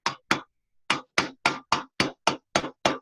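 Hammer blows on sheet metal during chasing and repoussé, a steady series of about ten sharp, close metallic strikes after two opening hits and a short pause, with no voices.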